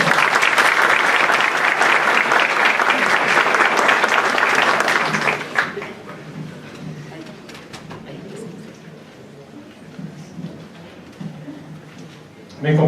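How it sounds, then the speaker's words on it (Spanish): A crowd claps loudly and continuously for about five seconds, then the applause dies away into a quieter room with scattered low sounds. "Recibámoslo con un gran aplauso."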